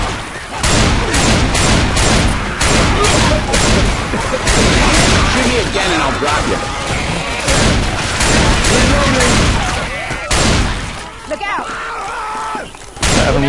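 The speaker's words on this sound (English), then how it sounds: "Ooh, bullets." Heavy gunfire in the zombie video game Left 4 Dead 2, dense bursts of shots and booming blasts firing almost continuously at high loudness across the whole stretch.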